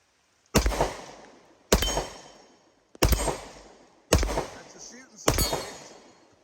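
Five loud, evenly spaced shots from a Hi Point JXP 10mm pistol, each a sharp close crack with a short decaying ring, about one second apart.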